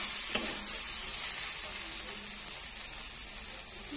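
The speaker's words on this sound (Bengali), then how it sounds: "এবারে অল্প জল দিয়ে দেবো।" A little water goes into roasted poppy seeds in a hot kadai, setting off a steady, even sizzling hiss after one brief clink at the start.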